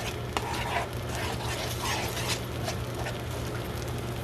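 Ingredients for prohok ktiss with curry paste being stirred together in a bowl, a soft continuous swishing and scraping with a low steady hum underneath and no talk.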